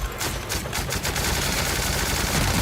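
The player's gun in The Outer Worlds fires sustained rapid automatic bursts, loud and close, forming a dense continuous rattle.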